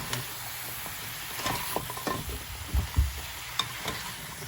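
Sweet and sour pork sizzles steadily in a frying pan while a spoon stirs it, with scraping and clinking strokes rising over the constant hiss of the hot oil; no talking.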